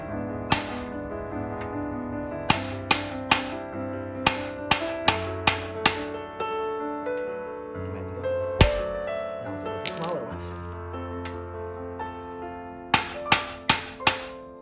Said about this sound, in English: I'm just going to try a bolt that's basically the same diameter and hit it from the other socket.